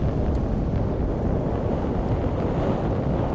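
During launch, a Delta IV rocket's main engine and twin solid rocket motors produce an unbroken, loud, deep roaring rumble with a buffeting, crackly edge, holding level from start to finish.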